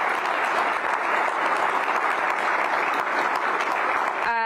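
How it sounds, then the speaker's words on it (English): An audience at a public service awards ceremony hosted by the mayor breaks into loud, sustained applause, a dense continuous roar of clapping that ends abruptly as a voice begins to speak. "please give a round of applause to our leadership"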